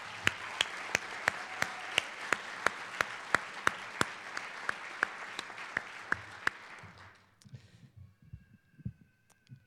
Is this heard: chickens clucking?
no